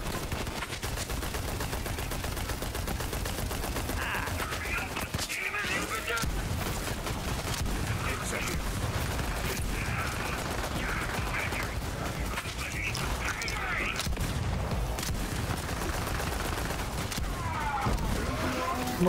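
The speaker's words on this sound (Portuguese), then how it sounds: "Dois tiros, matei ele." Gunfire in the video game Borderlands 3 during a fight with security on a pleasure yacht, dense bursts of shots over continuous game music and effects, loud throughout with voices talking over it.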